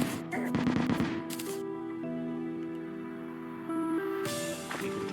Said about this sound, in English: I didn't even notice for a second that I was being shot